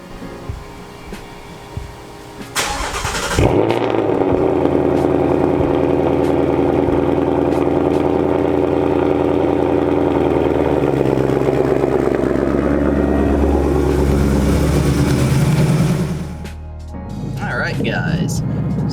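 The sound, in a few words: 2018 Ford Mustang GT Performance Pack cold start and idle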